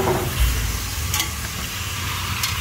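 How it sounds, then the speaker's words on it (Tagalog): A pan of pork for batchoy being stirred, with a steady close hiss of sizzling frying food and scraping spoon strokes, no voices. "halo-haluin lang natin"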